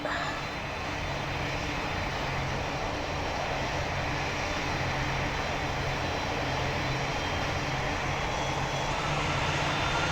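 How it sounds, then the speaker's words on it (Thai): A Thai Airways airliner's engines drone steadily throughout a flight in a video game, a dense, even roar with no pauses or voices. "วันนี้เราจะมาเล่นแบบ ขับเครื่องบินนะครับ"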